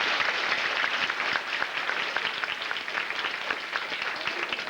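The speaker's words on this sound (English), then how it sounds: "So you can give them a round of applause as well." An audience at a stage performance breaks into sustained applause, a dense wash of many hands clapping at a steady level from start to finish with no talking over it.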